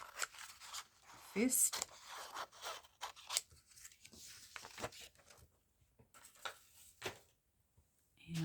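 Scissors cut roughly through paper for a craft journaling piece, giving quiet, close snips and crisp rustling scattered through the passage, with a brief spoken word in between.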